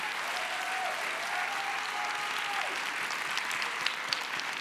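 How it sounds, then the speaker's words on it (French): Audience applause at a university thesis-presentation competition final evening, a continuous, moderately distant clapping crowd at a steady level, with a faint sustained tone drifting underneath and a couple of sharper claps late on. "Applaudissez-vous"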